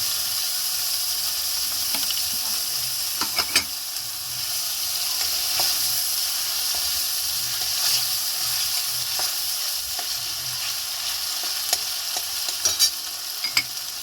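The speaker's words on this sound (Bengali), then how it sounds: "ভালো করে কষিয়ে নেব।" Ginger garlic paste sautéed in a pan for Kashmiri aloo dum, a continuous close sizzle and crackle with occasional sharp pops and spoon scrapes from stirring.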